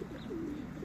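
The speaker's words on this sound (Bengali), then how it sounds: "খুবই সুন্দর এই কবুতর" A pigeon in a park in Italy gives a single short, soft coo, close and faint against a low background hum.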